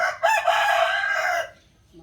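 A single loud, close rooster crow lasting over a second, then quiet.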